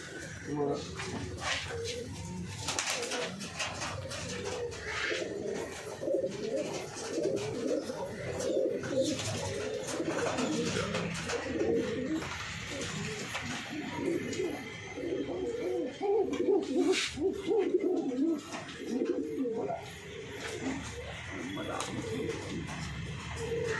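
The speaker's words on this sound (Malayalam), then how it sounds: "മെയിൻ പ്രാവ് എന്ന് പറഞ്ഞാൽ ഇതൊക്കെയാണ് മെയിൻ പ്രാവുകൾ" Soft cooing from high-flying pigeons in a loft rises and falls continuously through the clip, mixed with other bird calls and someone talking over them.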